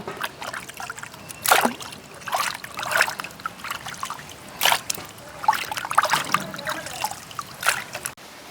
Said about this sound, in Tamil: நாங்கள் வடிவாக ரெண்டு தண்ணியில் கழுவி எடுப்போம்